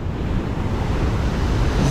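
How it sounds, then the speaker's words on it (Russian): Violent ocean surf pounds the shore at Hikkadua, Sri Lanka, beside large protective boulders, a loud continuous roar of breaking waves with heavy wind buffeting the microphone throughout. "Вы только посмотрите, какие здесь бешеные волны."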